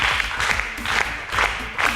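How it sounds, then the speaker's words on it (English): An audience applauds a high school team at the end of a game show match, a short burst of dense clapping at moderate volume that swells and eases in waves. "Please, a round of applause for Dansol High School"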